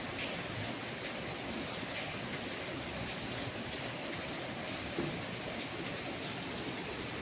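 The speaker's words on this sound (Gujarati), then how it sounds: "વરસાદ ચાલુ વરસાદ ચાલુ થઈ ગયો" Steady rain pattering on a surface, a dense continuous hiss that stays even throughout, with no talking.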